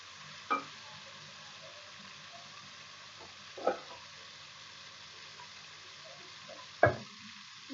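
Tomatoes and two green chilies frying in a pan, a soft, steady sizzle, broken by three sharp clattering stirs spread across the stretch.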